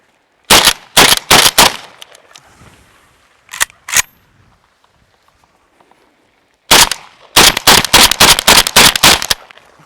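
Shotgun firing birdshot, a loud close volley of sharp blasts: several rapid shots in quick succession, a pause, two more reports, then a longer burst of rapid fire.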